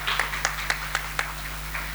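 A handful of claps ring out at a speech competition, sparse and evenly spaced rather than a full ovation, fairly faint over a steady background hum.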